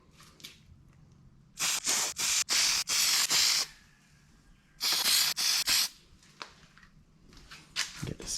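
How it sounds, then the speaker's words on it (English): Plasti Dip aerosol spray being applied to a 2019–2021 Toyota RAV4 emblem, heard as several short close hissing bursts in two clusters separated by quiet pauses. "I'm just gonna see how this sprays"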